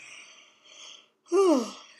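A drawn-out yawn rises and falls in pitch near the listener, preceded by soft breathy vocal sounds and a brief pause.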